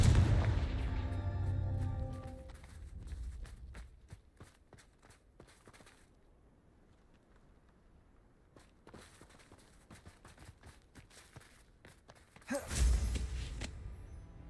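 A Confringo fire spell cast in the video game Hogwarts Legacy, with a burst of loud blasts and crackling impacts up front, a long quiet stretch of faint rumble, then one more sharp explosive hit near the end.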